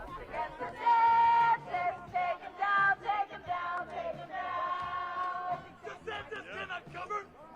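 A crowd of roughly 50 to 100 people outside a hotel shouting and chanting together, loud, rhythmic bursts of many voices rising and falling in a close, dense mass.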